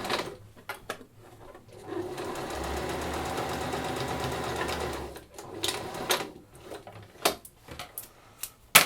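A sewing machine runs along a lining seam of a drawstring bag, a steady motor whir for about three seconds, followed by clicks and handling knocks as the stitching is adjusted.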